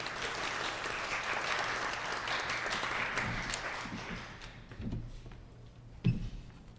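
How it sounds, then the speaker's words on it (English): Audience applause at a psychiatry department academic day, steady broadband clapping from a seated crowd that fades gradually, with a few louder individual claps and thuds near the end. "Give her a hand of applause."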